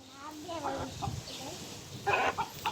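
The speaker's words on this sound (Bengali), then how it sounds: "একটা মুরগি আনছি বাইরের থেকে" A chicken clucks in short, soft bursts close by, mixed with people talking nearby in a quiet outdoor setting.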